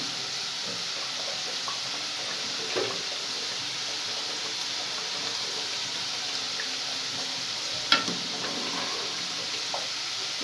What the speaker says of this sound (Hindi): अब मैं इसमें ये हरी मिर्च डाल रही हूँ और साथ ये अरवी डाल के थोड़ा भूनूंगी।